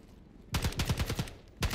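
Model 11 gun firing in the video game Call of Duty Black Ops 6, a rapid burst of about eight sharp shots followed by one more shot after a short pause, loud and close.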